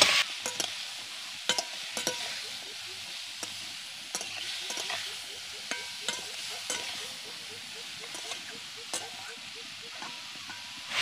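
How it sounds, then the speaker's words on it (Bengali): Vegetable pulao being stirred in a pot after salt goes in: a soft sizzle runs underneath while a spoon scrapes and clinks against the metal in irregular strokes, close and moderate, with no talking. "এবার ভালো করে মিশিয়ে নেব।"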